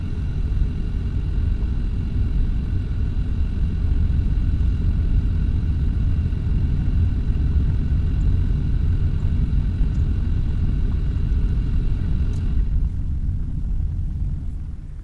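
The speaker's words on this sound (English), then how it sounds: "it's a very bumpy ride to the area where the sinkhole is located" A vehicle rides over a rough, bumpy dirt road near a sinkhole in Treasure Beach, Jamaica, giving a steady, loud low rumble of engine and tyres that fades slightly at the end.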